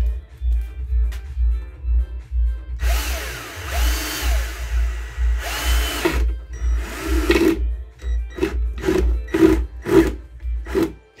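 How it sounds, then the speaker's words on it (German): A power drill drives screws into a wooden crate, with a low motor whir underneath, longer grinding runs, then a series of short, sharp bursts near the end, heard close up. "Eigentlich muss das Ding nur noch verschraubt werden."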